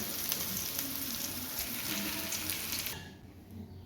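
Banana flower fritters sizzle steadily in hot oil with a loud, crackling hiss that cuts off abruptly near the end, leaving faint background noise.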